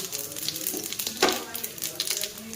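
A Bengali tempering of bay leaf, dry chilli, whole cumin and radhuni frying in hot oil in a karai, crackling up close with a sharp burst partway through.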